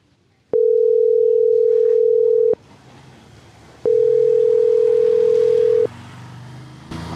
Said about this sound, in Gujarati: આ બીજી રીંગે ગઈ તોય નથી ઉપાડતા